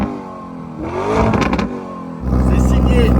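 A Lamborghini Urus SUV with an Akrapovic exhaust revs up in a loud, rising surge that holds at a strong roar near the end, with someone speaking over it.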